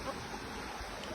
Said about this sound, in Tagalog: Ito na kami sa ilog.